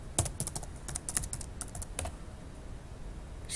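Typing on a computer keyboard, a quick burst of crisp key clicks at close range that slows and trails off into quiet room tone partway through.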